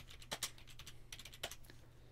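Quiet, close keystrokes on a computer keyboard, a short uneven burst of clicks with a few sharper taps as a command is typed, no talking.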